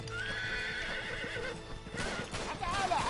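A horse in the video game Uncharted 3 neighs loudly and shrilly over hoof clip-clops and background game noise, fairly close.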